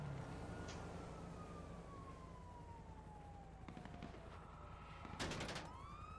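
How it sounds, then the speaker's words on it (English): Police sirens wail over a steady engine drone in a GTA 5 police chase, with a short burst of gunfire near the end cutting loudly through the traffic noise. "Okay, they're already shooting at me."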